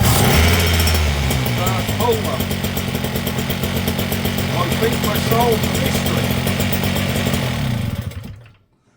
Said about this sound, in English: So, our little engine does run a treat. The little JLO.